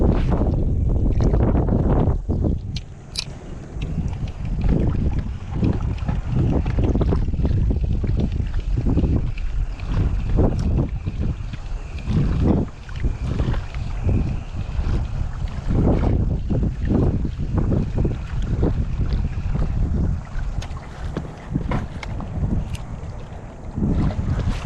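Strong wind buffets the microphone in gusty, roaring bursts, loud and continuous, with water lapping faintly underneath, out on the water while fishing.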